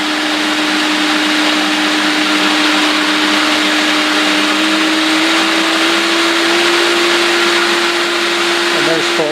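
A pump runs with vacuum pulling on a 2-inch pipe, giving a loud, constant mechanical whine with a steady tonal hum that rises slightly in pitch as the pump speeds up.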